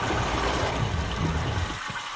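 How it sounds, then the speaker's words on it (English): Water rushing through a pipe in the puzzle game Myst: a steady, close, full-bodied gush that holds evenly for most of the moment, then drops away sharply near the end. "That's the sound of water through the pipe."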